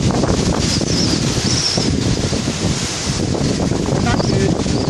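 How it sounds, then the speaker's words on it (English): Strong wind buffets the microphone at a Badlands campsite in South Dakota, a loud, unbroken roar of gusts with rustling, steady throughout with no clear speech. "Windy as heck."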